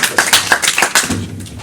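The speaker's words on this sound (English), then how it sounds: "Round of applause, Mr. John Levene" Audience at Geekedfest 2015 gives a short round of applause, a few distinct loud claps spaced out over about a second before fading under voices.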